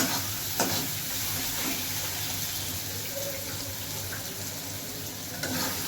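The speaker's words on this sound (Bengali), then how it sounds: "এটাকে একটু ভালো করে নাড়িয়ে চাড়িয়ে" Chicken kosha with cloves sizzles in a pan as it is stirred, a continuous close frying hiss with a few soft scraping knocks from the spoon and no voices.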